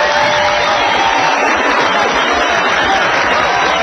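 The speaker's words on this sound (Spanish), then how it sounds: "les engrandezco estos aplausos" A live studio audience gives a dense, steady burst of applause, loud and close, with hands blending into an even wash that holds without pause.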